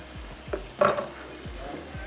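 Julienned ginger drops into a pan of chicken stir fry, giving a soft, quiet sizzle broken by a few light scrapes and clinks from stirring.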